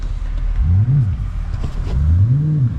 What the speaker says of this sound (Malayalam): ഇപ്പോൾ V8 ഇട്ട് കഴിഞ്ഞിട്ടുണ്ടെങ്കിൽ പക്ക V8ൻ്റെ സൗണ്ട് ആവും കേട്ടോ